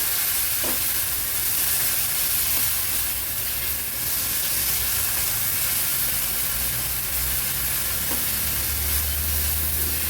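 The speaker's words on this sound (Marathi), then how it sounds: "चटणी दोन मिनिटांसाठी अशीच परतून घ्यायची आपल्याला" Chutney sautéing in oil in a pan, a continuous loud close sizzle and hiss with occasional faint stirring scrapes, steady throughout with no voices.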